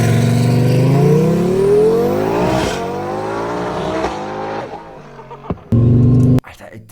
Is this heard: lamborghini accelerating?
yes